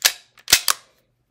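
Handgun press check with a magazine full of snap caps: three sharp metallic clacks of the slide being worked, close and loud, with a faint click between them, then silence.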